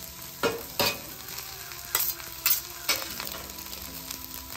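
Butter sizzles on a hibachi-style griddle alongside chicken and steak, a steady frying hiss broken by several sharp scraping and stirring bursts of a spatula against the hot metal.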